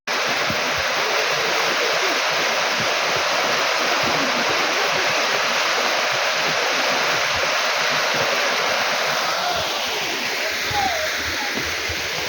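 Mountain river near a waterfall rushing steadily, a dense continuous roar of flowing water close by that stays loud and unbroken throughout, with no clear talk over it.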